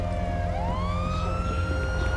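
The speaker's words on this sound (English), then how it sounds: "Cop car." A police car siren in the video game GTA 5 wails steadily, rising in pitch over a loud constant engine rumble, close and prominent.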